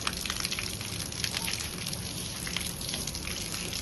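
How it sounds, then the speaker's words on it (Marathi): Steady running water gushing and splashing continuously, fairly close, with no voices over it. "एकदम स्वच्छ काचेसारखं पाणी आहे"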